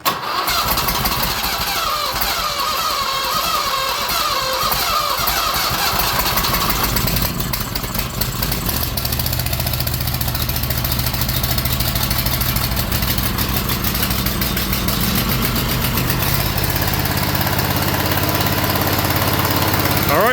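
A Scag Turf Tiger zero turn mower engine, run without its air filter after a shot of starter fluid, cranks and catches, then keeps running loud and close in a steady rough drone that settles into a smoother, lower idle.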